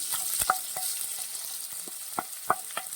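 Crushed ginger, garlic and shallots are added with mustard seeds to hot oil in a pan, sizzling steadily up close while a spoon stirs and scrapes with light intermittent clicks, no voices.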